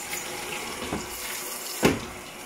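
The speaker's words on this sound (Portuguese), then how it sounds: "E vou aguardar a lavadora encher." An Electrolux washing machine fills with water on a high level setting, a steady running-water rush with a brief louder splash near the end, no voices.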